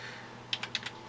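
A computer keyboard is tapped in a short burst of four or five crisp, close keystrokes over a quiet room hum.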